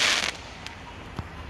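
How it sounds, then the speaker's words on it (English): Fourth of July fireworks go off in the distance: a hissing burst at first, then two faint pops, all outdoors. "there's people already setting off fireworks here."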